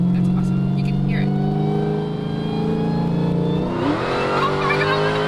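A supercharged car accelerates hard, its rising supercharger whine climbing in pitch over a loud engine roar and then shifting sharply as the gear changes, with people talking and exclaiming in the cabin.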